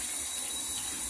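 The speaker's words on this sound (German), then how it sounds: "Jetzt drehen wir das Wasser auf" Water from a tap running into a bath through hanging bath salt, a steady close hiss of flowing water at low level throughout the short moment.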